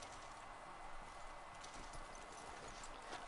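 Steady clip-clop of horse hooves at a brisk, even trot in the video game Red Dead Online, over a constant background hiss, with no talking.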